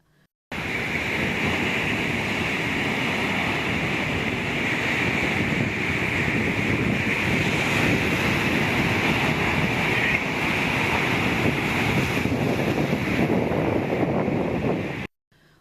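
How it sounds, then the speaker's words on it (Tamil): Rough, storm-driven sea waves break on Auroville beach during Cyclone Fengal, making a loud, unbroken roar of surf mixed with heavy wind buffeting the microphone, with no voices. "வழக்கத்திற்கு மாறாக கடல் அலைகள் உயரமாக எழும்பி வருகின்றன."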